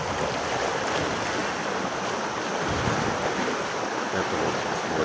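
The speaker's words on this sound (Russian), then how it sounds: "Первый паром пошел." A ferry moving across open water near a large waterfall, with a steady broadband wash of waves and water that stays loud and continuous throughout, along with some wind noise and no voices.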